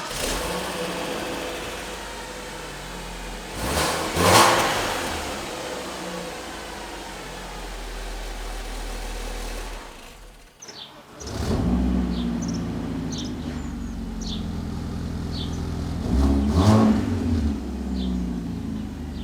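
A BMW E46 Compact with a freshly repaired exhaust starts up and runs. It gives a steady engine drone with two louder revs partway through and a brief dip near the middle, with no talking.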